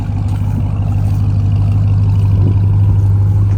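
A Ram TRX pickup on Mud-Grappler tires cruises along a parkway, giving a loud, constant low engine and road drone with a steady tire hum and no breaks.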